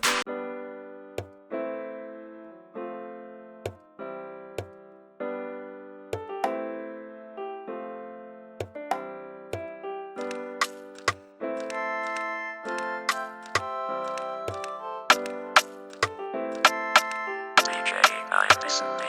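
A producer's hip hop beat plays back fairly quietly, starting with sparse plucked keys and a low kick that thicken into fuller layers, with a bright noisy swell near the end and no one talking.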